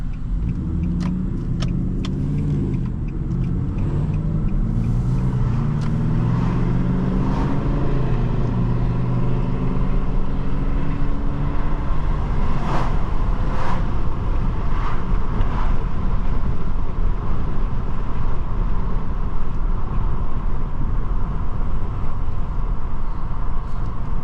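A 2004 Nissan Maxima 3.5 SE accelerates hard on a road test, its engine rising steadily in pitch through the opening seconds before settling into a loud, continuous roar mixed with heavy wind and road noise.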